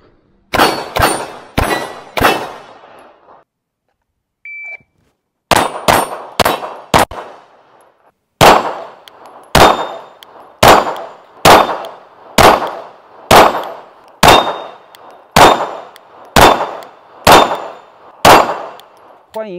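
A Glock 19 pistol fires at an outdoor shooting range in Thailand, with loud, sharp reports that each ring out briefly, first in quick clusters and then as a long, evenly spaced string of single shots.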